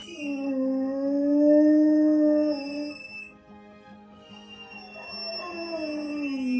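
A frightened female rescue dog howls from separation anxiety at home, sending out long, wavering, mournful cries that rise and fall close by, with no voices present.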